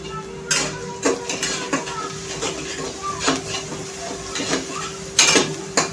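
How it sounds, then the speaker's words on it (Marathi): Crushed ginger and garlic sautéed with onions in a pan for dal khichdi: repeated clinks and scrapes of a utensil against the pan over a soft sizzle, with a low steady hum underneath and a sharper clatter near the end. "आलं आणि लसणाचं कच्चेपणा जाईपर्यंत परतून घ्यायचं आहे आपल्याला"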